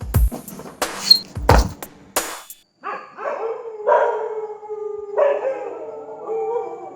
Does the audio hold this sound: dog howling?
yes